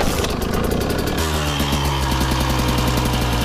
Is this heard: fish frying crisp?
no